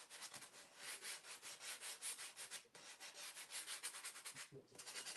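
Wood is sanded by hand with coarse 80-grit sandpaper for a cutting board sign, making repeated close, scratchy rubbing strokes in an uneven back-and-forth rhythm. A short pause comes midway, and the sound is fairly quiet overall.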